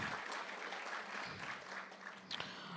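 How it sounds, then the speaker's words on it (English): An indoor audience at a talk claps steadily for a guest, a dense even patter of many hands at moderate distance that carries on for several seconds. "let's give him a round of applause for agreeing to be here"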